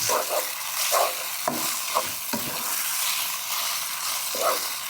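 Liver stir-fried in garlic-infused oil in a pan, a steady close sizzle broken by several scraping stirs of the spatula, with no talk.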